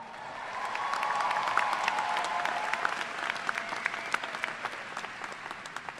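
Audience applause at a university commencement ceremony for the class of 2016, a large crowd clapping steadily and fairly close, swelling early then holding dense and even, with a few faint cheers mixed in and no talking.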